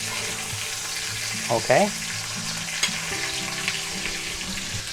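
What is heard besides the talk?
chuck eye steak sizzling while being basted in pan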